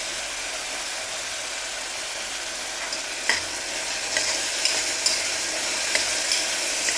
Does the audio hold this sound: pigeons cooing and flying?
no